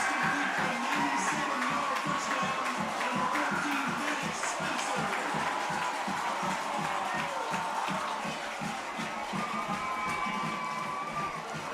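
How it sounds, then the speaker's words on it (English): Home crowd of Nease Panthers fans cheering a touchdown at a high school football game: a sustained, dense roar of shouting and whooping from a packed stand, steady throughout with a commentator's voice faintly in the mix. "this Panthers side is on their feet. They have got something to cheer about now"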